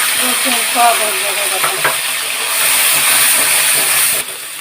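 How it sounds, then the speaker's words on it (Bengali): Whole spices and bay leaf fry in hot oil in a home kitchen, a steady loud hiss and sizzle running throughout with a few faint stirring clicks, then dropping off sharply at the end. "এখন মশলাগুলো ভেজে নেব।"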